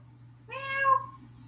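A single short meow, rising then falling, sounds faintly over a low steady hum, with no other voices around it.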